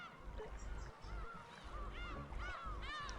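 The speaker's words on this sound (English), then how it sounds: "Do you hear the seagulls in the back?" Seagulls calling in the background of the Umineko visual novel, repeated rising and falling cries over a low, steady ambient bed.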